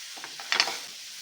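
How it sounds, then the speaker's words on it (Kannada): Tomatoes with salt, curry leaves and turmeric sizzle briefly in a hot pan while being stirred, giving a few faint, short crackling bursts with a slightly stronger flare near the middle and quiet moments around them. "ಸ್ವಲ್ಪ ಫ್ರೈ ಮಾಡ್ಕೊಳ್ಳೋಣ"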